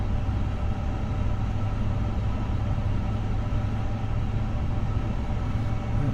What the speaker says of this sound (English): The engines are starting up.